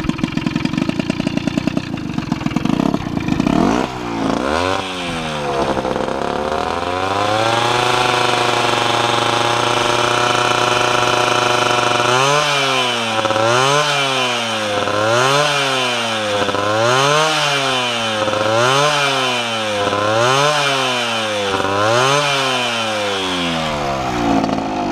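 A tuned Ciao moped with a new E8 engine and revised port timing runs for the first time, cranking then revving loudly in rising, repeated rhythmic bursts, close and alone without any voices.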